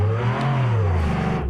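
A Renault 5 Turbo 16 engine revs loudly and slowly, its pitch climbing as the turbo kicks in, a close, continuous roar with no voices.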